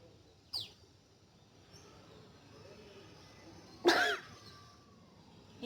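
Two short, sharp coughs burst out from one person during a sneezing challenge, the first faint and the second louder, separated by a few seconds of quiet room tone.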